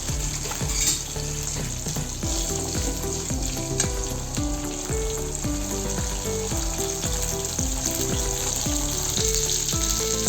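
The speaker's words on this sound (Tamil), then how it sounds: "ஒரு பூண்டு, கட்டி பூண்டை நல்லா உரிச்சி வச்சுருக்கேன் அது, சின்ன வெங்காயம் 10லேருந்து 15, இதெல்லாம் நல்லா வதக்கிக்கலாம்" Peeled garlic and small shallots sauté in a pan for fish curry, loud continuous frying crackle with regular, brisk spatula scrapes throughout.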